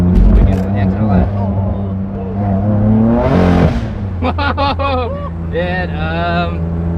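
A BMW E92 M3 with the S65 engine revs hard under anti-lag, its steady loud engine drone running throughout with a rising burst near the middle, while excited voices talk over it.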